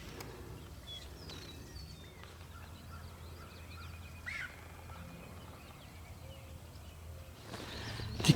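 Wild turkey gobbling outdoors during a turkey hunt, distant and faint over a steady low background hum, with a few short calls and a louder sound near the end.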